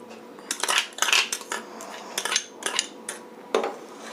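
A milk and milk-powder mixture for homemade ice cream is stirred in a pot, giving irregular metallic clinks and scrapes of a spoon against the pot, close and fairly loud, in bursts with short pauses and no talking.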